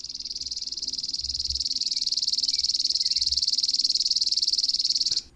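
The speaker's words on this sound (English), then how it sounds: "Is this a chipping sparrow? This is a chipping sparrow." A chipping sparrow gives its call as a long, rapid, dry trill of evenly spaced chips, steady and fairly loud for about five seconds before it stops abruptly.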